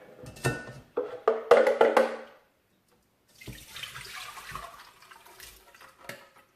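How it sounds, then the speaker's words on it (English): Blended Hausa koko mixture, a millet porridge base, poured and drained through a strainer, giving two bursts of splashing, trickling liquid, the first louder and fuller, then a softer stretch of dripping and pouring close by. "And I'm going to drain it with the drainer."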